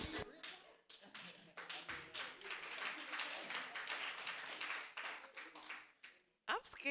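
Audience clapping at a live comedy-style performance, a dense crowd patter that swells and holds for several seconds, loud and close, then breaks off briefly before resuming.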